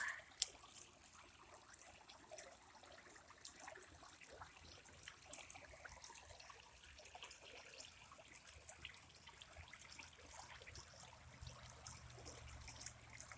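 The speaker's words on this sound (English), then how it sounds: "It's just like a maze with all these rocks in here, how the water has to travel." Creek water trickles and gurgles as it winds between rocks, a faint, steady outdoor burble with small splashy ticks scattered throughout and no voices.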